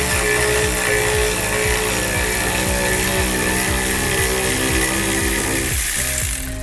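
A jack being lowered under the rear of a Honda CR-V RD1 fitted with 1.5-inch spacers gives a steady, close mechanical grinding with a regular train of ratcheting clicks running throughout.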